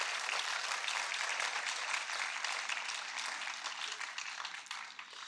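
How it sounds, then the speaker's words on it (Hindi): A concert audience at a sitar performance breaking into applause, a full, continuous roar of clapping that gradually thins and softens over five seconds. "इनका अभिवादन अपनी तालियों की गड़गड़ाहट से कर दीजिए"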